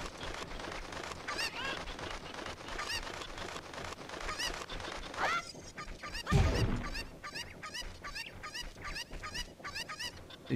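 A cucco chicken in the video game Zelda Ocarina of Time squawks and clucks in rapid, repeated bursts, with a louder thump and flurry midway before the frantic clucking resumes.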